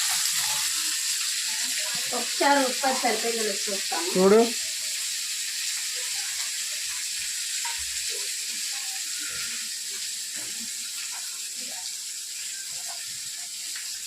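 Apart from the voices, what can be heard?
fish frying in a pan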